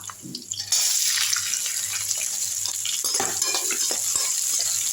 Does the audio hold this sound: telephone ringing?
no